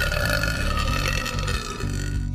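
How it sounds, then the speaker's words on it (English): A loud, long, rumbling burp from a person, sustained and unbroken, alone with no talk. "I felt a rumble in my tummy, and before I knew it, I let out a loud burp."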